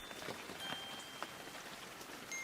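Rain patters onto a city street with grey stone pavements, a soft continuous hiss marked by scattered drips and splashes, with no voices.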